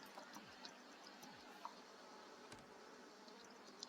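Quiet, continuous buzzing of bees in The Sims 4 hums along softly, with a few faint clicks and a low thump scattered through.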